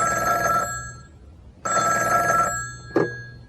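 A telephone rings in two long bursts of a bright electronic double tone separated by a short pause, followed by a brief click or pickup sound, with no talking.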